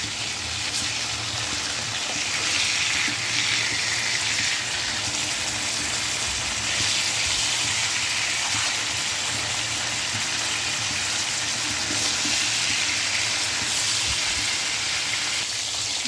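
Surma fish frying in oil, a continuous, dense sizzle that holds steady and fairly loud for the whole stretch, with slight swells in intensity and no talk.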